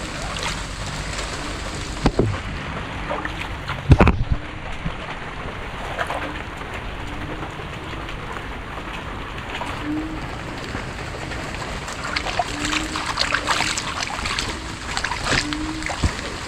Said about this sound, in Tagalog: Talsik yan sa lakas ng ulan.